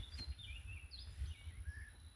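Male cardinal-like songbird singing at a wooded site in North Carolina, faint thin whistled phrases that slide and repeat from a distance over low rumbling background noise.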